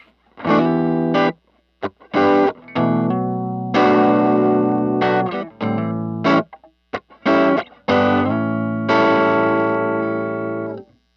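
Clean electric guitar on the neck pickup of a 1982 Fender Bullet S-3, warm, round tone, strummed chords and short picked phrases with pauses between, a light shimmer of effect on the notes.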